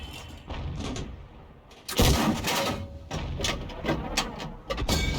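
Heavy impacts and booming blasts from a 105 leFH18B2 howitzer in a tank video game, a couple of loud bursts around the middle followed by rumbling reverberation and clattering mechanical noise, close and prominent.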